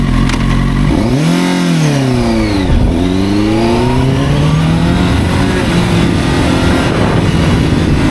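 CFMOTO 750SR motorcycle engine revving hard, rising and falling pitch sweeps as it accelerates through gears, loud and close from the rider's position with continuous wind and road noise.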